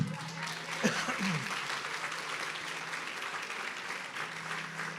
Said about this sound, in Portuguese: Vamos aplaudir o Senhor, amém?